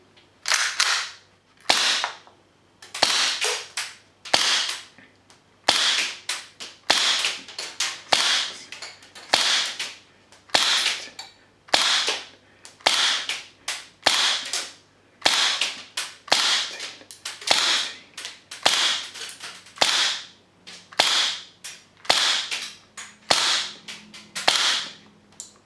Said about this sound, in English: during this test, I'll be feeling how hard the kick is, or the Airsoft recoil.